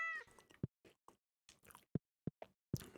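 A cat meows in the farming game Stardew Valley when the player pets it, giving a short harmonic mewl at the start followed by soft, quiet game clicks and blips.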